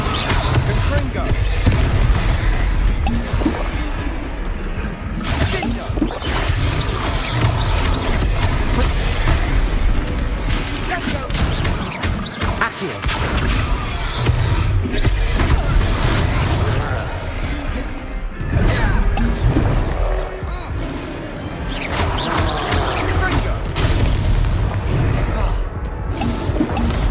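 Confringo blasting spells burst repeatedly during a fight in the Hogwarts Legacy video game, a dense, loud run of booms and crashes layered with game music and character voices throughout.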